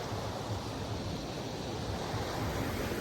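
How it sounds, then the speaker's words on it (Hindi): Water pours continuously over a small waterfall at the Basantpur tourist spot in Simdega, a steady broadband rush with no talk. "और ये है बसंतपुर का छोटा सा वाटरफॉल"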